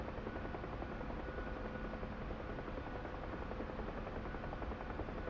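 Huey helicopter in DCS World in flight, its rotor giving a continuous rapid blade chop over a steady engine whine, even and constant throughout.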